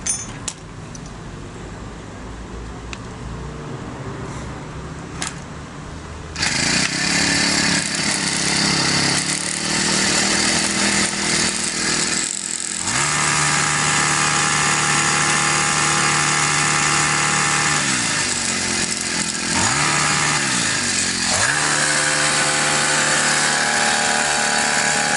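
After a quiet start with light handling noises, a four-stroke grass trimmer with a replacement carburetor starts and runs with a loud, buzzy engine drone, holding steady with a few dips and rises in speed close by.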